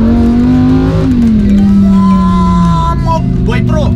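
A Lamborghini accelerates hard, a close, loud engine roar whose pitch climbs, dips through a gear change, then rises again, with people talking over it inside the car.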